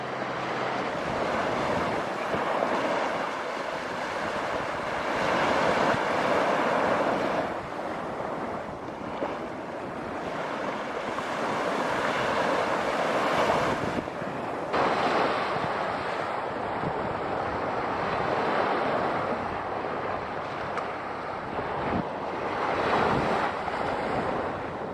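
Waves wash ashore at a beach, a continuous rolling surf roar mixed with gusty wind buffeting the microphone, swelling and easing over the whole stretch with no voices.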